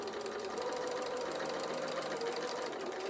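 Sewing machine stitching the head of a toy bear, a steady fast mechanical whirr with a rapid needle rhythm running throughout, fairly quiet and close.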